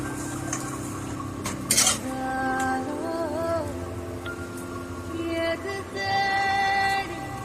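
Japan chicken masala being stirred in a pan, a spoon scraping and clinking against the metal in irregular close bursts, with faint high tonal sounds in the background.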